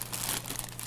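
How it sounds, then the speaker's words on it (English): A single layer of plastic bag taped down over parts in a Kingdom Death Monster board game box is pulled open, giving a brief, close crinkling and crumpling rustle. "So it's just one layer of plastic bag taped down"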